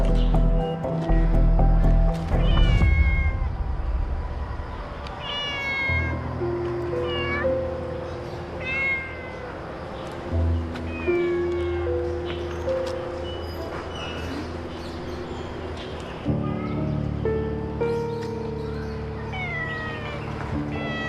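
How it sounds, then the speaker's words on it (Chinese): A cat meows repeatedly in a steady series of clear, nearby cries, with a low rumbling background and some faint talk underneath. "好可怜的野猫啊！"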